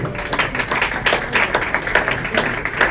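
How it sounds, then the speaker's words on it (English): A small audience at a London cocktail bar gathering claps steadily for a few seconds in a dense, close patter, with no voices over it. "Round of applause."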